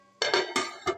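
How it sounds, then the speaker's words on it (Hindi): A lid is set onto a pot of Punjabi chicken pulao, making a few quick metallic clinks and clatters, close and fairly loud. "चावलों का पानी खुश्क हो चुका है तो इसको मैं कवर कर दूंगी दम के लिए"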